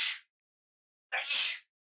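Two sharp bursts of a sneeze in a Danganronpa 2 game scene, the first brief at the very start and a fuller, louder one about a second later, with silence between and no talk.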